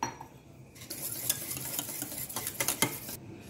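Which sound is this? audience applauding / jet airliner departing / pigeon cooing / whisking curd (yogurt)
whisking curd (yogurt)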